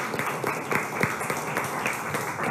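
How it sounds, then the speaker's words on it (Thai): Students applaud a classmate in a school maths lesson, a steady patter of many hands clapping at moderate distance. The spread-out, continuous clatter carries no talking. "ปรบมือเป็นกำลังใจให้เพื่อนหน่อยค่ะ"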